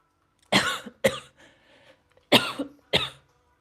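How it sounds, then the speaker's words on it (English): Two pairs of harsh, close coughs separated by a brief pause, loud and abrupt with a faint breath in between. "I recently had a terrible cough"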